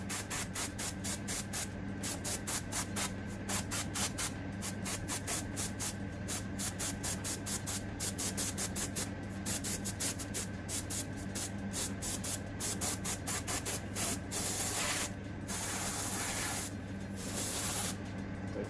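Up close, a spray can puts a first coat of paint onto a gun, including down into the barrel. Short hissing bursts repeat in a steady rhythm, broken by a few longer sprays near the end, with no talking.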